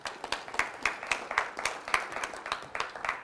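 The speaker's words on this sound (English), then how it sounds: "Give Maya a round of applause" A small audience at a university Giving Tuesday event claps in a brief round of applause, individual hand claps distinct and moderately close, no voices.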